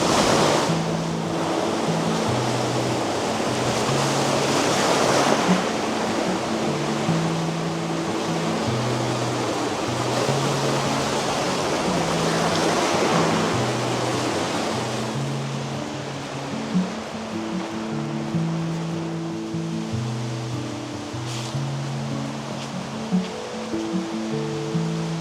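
Strong wind blowing at the seashore with waves rolling in, a broad roaring rush that swells and eases over a long stretch alongside low rumbling gusts, close and loud with no voices.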